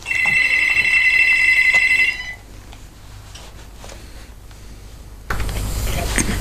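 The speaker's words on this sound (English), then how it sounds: "we've got a phone call" A telephone rings at a radio station for an incoming call, a bright repeating trill for about two seconds, followed by quieter room noise and a burst of hiss.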